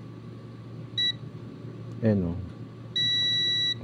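A faulty board in a Devant 65-inch smart LED TV with a shorted T-con or panel fault sounds a buzzer: one short high beep, then a longer steady beep, with someone talking in between.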